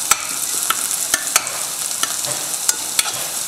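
Onions sauté in a pan until golden for a vegetable and mushroom kurma, with a steady soft sizzle punctuated by sharp clicks of a spoon stirring against the pan.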